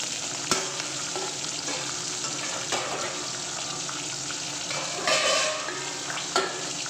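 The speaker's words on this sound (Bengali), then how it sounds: "চলো বাকি মাছগুলো আমি ভেজে নিই" Boal fish pieces fry in hot oil with a steady, dense sizzle, broken by a few clinks and scrapes of a utensil stirring in the pan.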